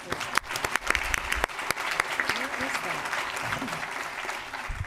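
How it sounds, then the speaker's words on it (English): A board meeting audience gives a Boy Scout a round of applause: a steady crowd clapping with sharp individual claps standing out near the listener, and faint voices underneath. "If we can give him a round of applause."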